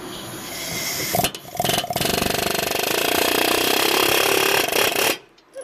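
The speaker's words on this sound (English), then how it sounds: "so flat rate way, air chisel, right where it needs to be" An air chisel stakes a wheel bearing hub assembly, a loud continuous pneumatic hammering that runs in a few bursts with short breaks before cutting off sharply.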